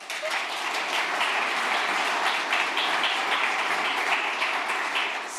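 A conference audience at a PyCon DE & PyData talk breaks into sustained applause, a dense, even wash of clapping that holds steady for several seconds.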